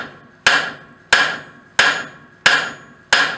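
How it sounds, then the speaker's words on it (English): Five heavy hammer strikes driving straight down on the horn of an anvil, stretching a leaf stem, evenly spaced about two-thirds of a second apart, each a sharp ringing clang with a brief decaying ring. "I'm using full face hammer blows and just driving straight down"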